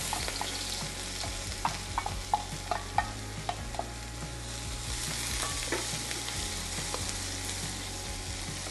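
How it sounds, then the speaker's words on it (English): Scallion and onion frying in a hot wok, with a continuous sizzle, scattered sharp taps of the spatula on metal and a low hum underneath, close and steady, with no talking. "The wok is hot, and I'm gonna start off with scallion and onion."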